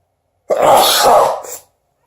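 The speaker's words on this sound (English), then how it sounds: "I sneezed 3 times." A person sneezes with the mouth closed after sniffing pepper, one strong stifled burst followed by a short second one, close and loud.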